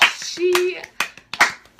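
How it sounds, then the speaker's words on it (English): A small group claps for Emily after a 54-mile Selma march, a few sharp, close hand claps in a loose burst with a voice sounding briefly among them. "Give her a round of applause for Emily."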